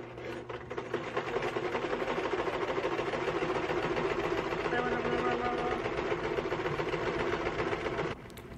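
A sewing machine stitching a shirt runs as a loud, steady mechanical whir for about eight seconds, then stops abruptly, leaving a quieter background.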